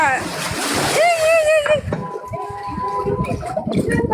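A loud rush of splashing water as a car drives through floodwater on a flooded street, with excited voices shouting and talking over it.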